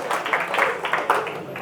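Audience applause at a poetry recital, a steady close patter of many hands clapping, with a voice speaking over it.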